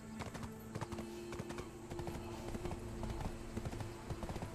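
Horse hooves clip-clop steadily at a walking pace in the game Tale of the Songakshi, with a quick, even, close rhythm over a soft ambient background.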